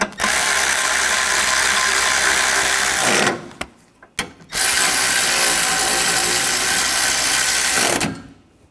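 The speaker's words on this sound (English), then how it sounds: "get the bolts started. And I'll tighten this down." A ratchet wrench tightens bolts on the AC condenser of a 2013–2022 Buick Encore with fast, loud, close clicking in two long continuous runs, separated by a short pause and a few brief clicks, with no one talking.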